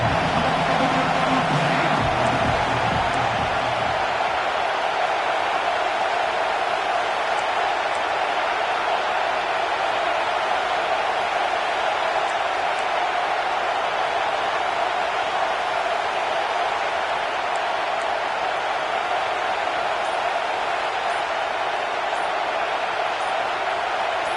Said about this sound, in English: This crowd unhinged, trying to make sure the Gators don't back down on third down